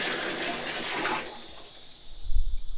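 Bucket of water tipped over the head in a bucket shower, a rushing splash of pouring water that fades after about a second and a half, followed by low dripping and thuds.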